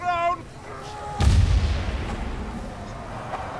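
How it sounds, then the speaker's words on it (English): Bomb blast in Warhammer Vermintide 2, a heavy close boom that rolls into a long rumbling decay, following a brief spoken line. "Bomb thrown."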